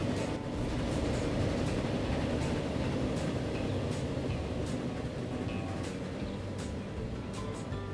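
A train running in the Transport Fever video game rolls along steadily, a continuous low rumble with faint higher clicks and tones over eight seconds, no voices.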